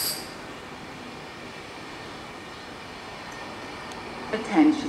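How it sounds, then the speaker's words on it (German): Intercity 359 to Graz pulls into Wiener Neustadt Hauptbahnhof as a steady low rolling rumble, with a brief wheel squeal near the end and a station announcement voice over it. "Intercity 359 nach Graz Hauptbahnhof über Bruck an der Mur fährt ein."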